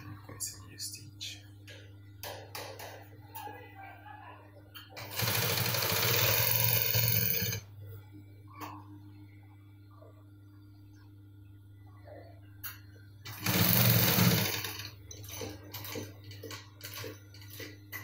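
A sewing machine runs in two bursts while stitching a cargo pocket, each lasting a couple of seconds, with quiet gaps of soft handling and a steady low hum between them.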